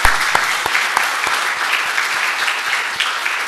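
A church congregation gives a big round of applause for two deacons, a dense, steady clapping from many hands with sharp individual claps standing out, lasting throughout without voices.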